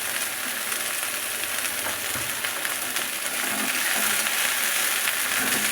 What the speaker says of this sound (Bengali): আমি ভালোভাবে ফুলগুলোকে কিন্তু ভেজে নেব